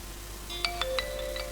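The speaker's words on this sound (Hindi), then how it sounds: "ये देखें फ्रेंड्स, मैसेज रिसीव हो चुका है फ़ोन पे।" A phone plays a short incoming SMS notification tone: a quick series of bright, close chime notes over faint background hum, with no voices.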